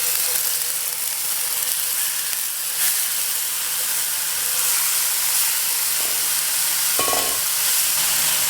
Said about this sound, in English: put the meat in there and let's start the cooking